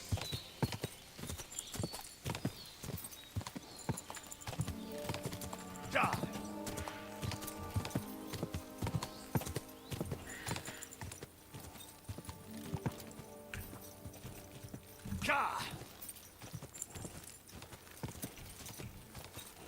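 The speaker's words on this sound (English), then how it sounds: "This is not a very fast horse." Horse hooves clip-clop in a steady rhythm in the video game Kingdom Come Deliverance 2, close and continuous, with occasional snorts and someone talking over the hoofbeats.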